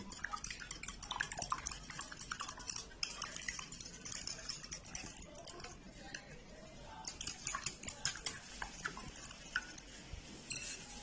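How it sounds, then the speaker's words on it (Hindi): Eggs seasoned with crushed black pepper are beaten with a utensil in a bowl, a quiet rapid run of clinking, scraping strokes that continues throughout, with no talking. "अच्छी तरह इनको बीट कर लेंगे।"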